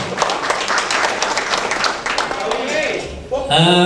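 A crowd at a rally on an open field in Indonesia claps and applauds in a dense burst under voices, fading out as a single voice speaks at the end.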